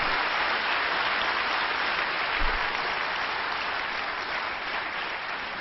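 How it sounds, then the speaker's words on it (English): Sustained audience applause fills the hall at a peace foundation forum after a panel of speakers and a moderator, a steady even wash of many hands clapping without a break and no talking. "let's have another round of applause for our speakers and moderator."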